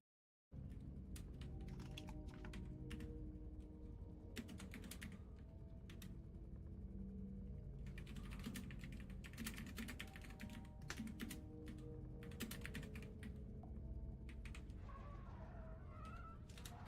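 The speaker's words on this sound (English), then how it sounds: "Just typing the response to Carlatin because he's having trouble with the video" Steady clicking of typing on a computer keyboard late at night, irregular bursts of keystrokes throughout, faint and alone, with a pigeon-like cooing heard in the background.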